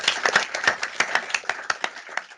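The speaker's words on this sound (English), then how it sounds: "perhaps we can give a round of applause to our panel again" A small audience claps for a couple of seconds after a panel discussion, sharp irregular hand claps close by, with no talking.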